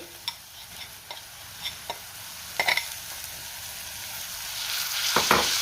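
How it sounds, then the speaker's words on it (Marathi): Sprouted mixed legumes being stirred in a hot pan for a Marathi usal, giving a steady oily sizzle with scattered scraping clicks of the spoon that grow louder toward the end. "आता ह्यामध्ये आपल्याला मोड आलेले कडधान्य घालायचे"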